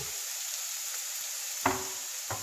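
Garlic and onions sizzle quietly in a pan as a faint, steady hiss, broken by two brief soft clicks or scrapes near the end.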